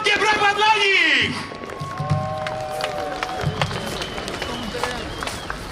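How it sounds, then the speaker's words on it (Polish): A crowd applauds a children's choir at an outdoor Independence Day rally in Warsaw: a loud sustained voice or tone at first, then scattered clapping with crowd noise and voices in the background. "Gromkie brawa dla nich!"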